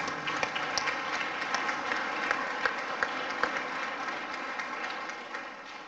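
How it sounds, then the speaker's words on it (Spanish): An audience applauds a former band director at a winter concert in Marcilla, with steady, dense clapping, a few sharper claps standing out, holding at a moderate level for about six seconds. "Un aplauso."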